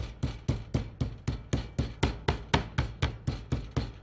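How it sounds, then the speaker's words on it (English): A boneless chicken breast is pounded flat on a board with a hammer before sautéing, about sixteen evenly spaced dull thuds in a steady rhythm, close and fairly loud with no talk. "we're going to hammer this out a little bit to flatten out the breast"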